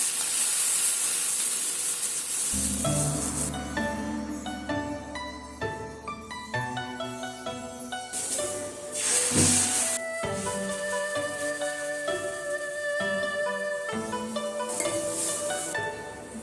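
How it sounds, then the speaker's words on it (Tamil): Loud hissing sizzle of water sprinkled onto a hot dosa griddle, bursting and crackling, then settling into a steady steamy hiss with fresh flare-ups. "தோசைக்கல் சூடானதுக்கு அப்புறம் கொஞ்சமா தண்ணி தெளிச்சுக்கலாம்."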